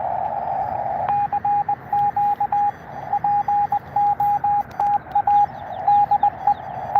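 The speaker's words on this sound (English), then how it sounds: "So talking to people, Morse code." A ham radio plays Morse code as a steady, clear beeping tone keyed on and off in short and long bursts over a continuous bed of radio hiss.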